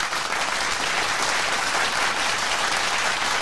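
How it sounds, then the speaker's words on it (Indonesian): Applause from an awards crowd at a beach event in Pasir Gudang, a dense, even wash of clapping that holds loud and steady throughout. "Apa kata kalau kita berikan tepukan yang gemuruh?"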